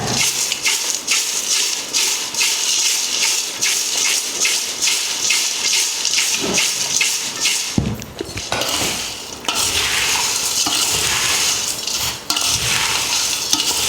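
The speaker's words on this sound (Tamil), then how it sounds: "இப்போ இதை மிக்ஸ் பண்ணிடலாம். இந்த மாதிரி குலுக்கி எடுத்துக்கோங்க." Fried Tamil mixture snack, a bakery-style batch of about 1 kg, is shaken in a container to toss in salt, giving a steady loud rattling and rustling stir that pauses briefly before resuming.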